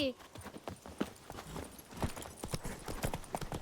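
Geralt's horse Roach trots along with rhythmic clip-clop hooves in The Witcher 3: Blood and Wine, steady and fairly close, with voices talking over the hoofbeats.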